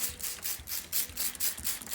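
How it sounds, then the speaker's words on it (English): Quick repeated spritzes of a spray bottle of vinegar onto a plant, short hissing bursts in a steady rhythm, close and fairly quiet. "I'm doing a vinegar spray to get the plant nice and wet"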